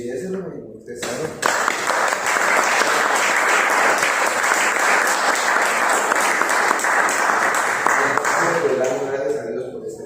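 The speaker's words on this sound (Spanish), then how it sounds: "Un aplausito de bienvenida para ellos." A group welcomed with warm applause from an audience at a church discipleship class, sustained dense clapping for several seconds, with a voice speaking briefly before it begins and again as it fades.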